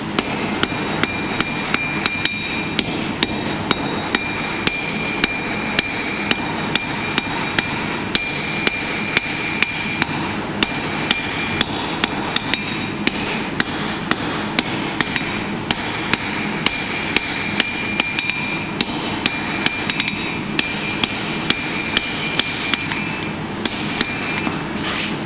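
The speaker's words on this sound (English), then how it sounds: "we're going to forge that away now" A hammer forges hot steel into forge-welded branching scrolls at a smithing event, heard as loud, steady, evenly spaced ringing blows repeated many times over a constant background roar, with no talk.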